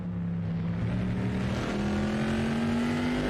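A Trans Am TA2 race car engine in an esports sim race at Riverside gives a loud, steady drone that climbs gradually in pitch as the car accelerates through the corners.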